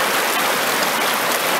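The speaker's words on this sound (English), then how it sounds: "this is pouring a 2 gallon bucket into the Expedition" Two gallons of water pour steadily from a bucket into an Expedition processing machine, a loud, continuous rushing splash close by with no talking.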